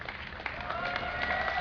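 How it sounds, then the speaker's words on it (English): A crowd cheers and applauds at a StarCraft II esports event at DreamHack 2010, a dense, continuous roar of clapping that swells slightly, with a voice talking faintly beneath it. "And make some noise so LiquidTyler can hear you all the way over there."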